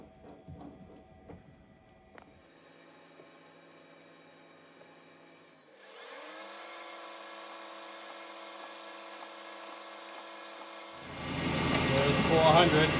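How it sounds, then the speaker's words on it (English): A small power drill with a number 50 bit drilling metal whines steadily, starting softly and then spinning up louder, with a brief tool start-stop and handling noise before it. "So now I'm going to drill that out."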